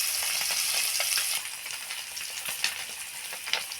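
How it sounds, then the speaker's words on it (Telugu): Fish frying in hot oil with a steady, dense sizzle throughout, loud at first, then easing slightly, with a few crackling pops; no talking. "చూడండి ఈ విధంగా ఫ్రై అవుతుంది"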